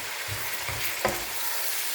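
Food sizzling in a frying pan while being stirred, with soft scraping strokes and a steady hiss, close by and with no voices.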